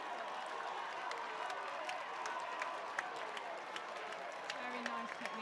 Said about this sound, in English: A big cheer coming from the crowd